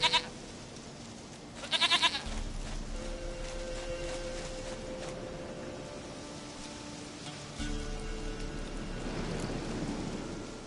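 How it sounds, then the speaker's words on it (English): A goat bleats in The Witcher 3, giving a couple of short, rising calls early on over steady falling rain with low thunder rumbling underneath, and no speech. "Goat of mine, dearest, sweetest goat."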